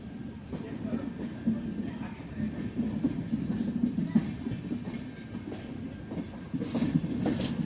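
A passenger train running into Bilaspur station, heard from on board: steady rumble and rhythmic clickety-clack of wheels over rail joints, loud and close, with someone speaking over it.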